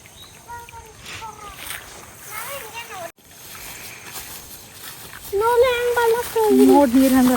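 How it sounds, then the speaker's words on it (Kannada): A clear forest stream in Bannerghatta flows in a low, steady burble and splash, heard beneath someone talking close by for most of the clip. "ಇಲ್ಲೊಂದು ಹಳ್ಳ ಅದ ನೋಡ್ರಿ ಹೆಂಗೆ ಹರಿಯಾತ ನೀರು"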